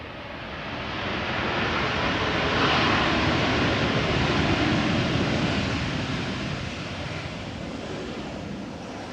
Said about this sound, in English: So this is KLM flight 982 arriving from London City.